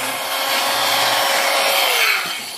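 A New-Tech 3-inch electric rotary cutter slices through stacked layers of cotton fabric, giving a loud, steady high whine close by with no talking.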